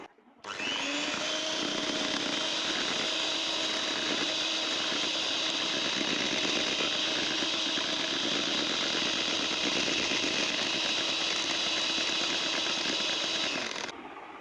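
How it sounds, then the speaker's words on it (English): An electric mixer whisks chilled, solidified chocolate body butter into a fine paste, giving a steady, loud whirring hum that runs unbroken for about thirteen seconds before stopping, with no talk. "So I'm going to whisk it,"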